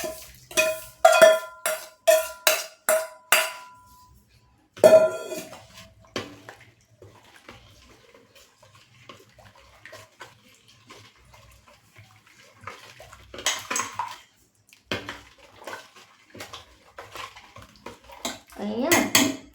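Ready-made achar masala, about 800 grams, is worked into oil in a large metal vessel for a jaggery mango pickle: bursts of sharp clanking and scraping strokes separated by quiet pauses.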